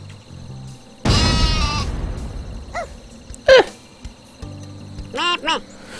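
Super Sheep in the Worms Ultimate Mayhem video game: several short, loud bleats spaced a second or so apart, with a burst of voice or noise early on and game sounds between them.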